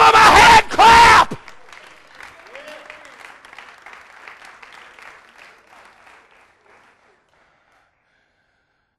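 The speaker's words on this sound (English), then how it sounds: "give them a hand clap." Church congregation at an evening youth service applauding with hand claps: a loud burst of sound opens, then a spread of many clapping hands fades steadily over several seconds into quiet.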